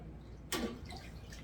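Water drips and splashes briefly from a lifted sous vide cooker lid during chicken preparation, a single short wet burst standing out from a quiet room.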